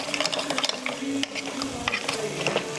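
Fresh minced garlic mashed by hand into a bowl of mashed potatoes, giving close, irregular scraping and clacking utensil sounds with a few sharper knocks, continuous throughout.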